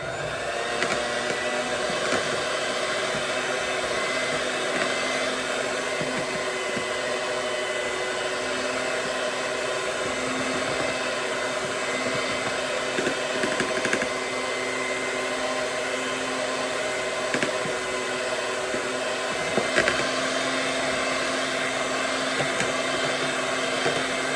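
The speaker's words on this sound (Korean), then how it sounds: "이렇게 이런 핸드 믹서를 이용해서 돌리실 때" A hand mixer whips cream for a fruit cream cake, a steady, loud motor whir that runs without a break throughout, close by with faint rattles of the beaters against the bowl.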